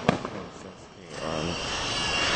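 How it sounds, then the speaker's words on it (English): Fireworks going off outdoors, a sharp close bang at the start followed by crackling and rumbling bursts that build into a sustained barrage, with people talking nearby. "I like the fireworks too."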